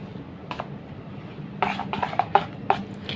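Raw mango pulp stirred with chili flakes and whole cumin: soft scraping and light clinks of a spoon against a pot, quiet at first, then a run of irregular taps and scrapes.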